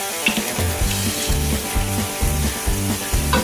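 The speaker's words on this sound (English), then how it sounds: "I want them to fry right around the edges" Dumplings fry in hot oil in a pan, giving a steady, close sizzle with rhythmic crackling bursts throughout.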